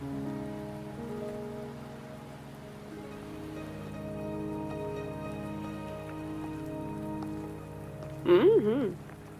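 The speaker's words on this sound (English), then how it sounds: "Are you trapped here by the rain?" Steady rain patters in the background of the video game Wuthering Waves over a low musical drone, with a short, louder tonal burst near the end.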